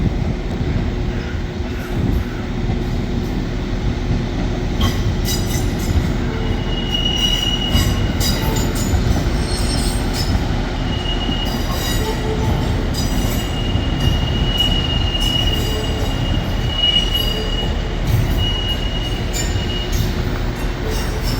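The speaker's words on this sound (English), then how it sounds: "we've got a class 150 coming in." A Class 150 diesel train rumbles steadily as it pulls into a station, with wheels squealing faintly and engine drone continuing throughout, no talking.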